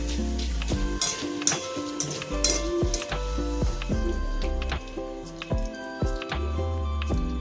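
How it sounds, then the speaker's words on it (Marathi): Poha (flattened rice) fries in hot oil in a pan for garlic chivda, a steady close sizzle with frequent scraping and clinking of a spoon against metal, no speech. "अशाच प्रकारे पोहे थोडे थोडे तळून घेते"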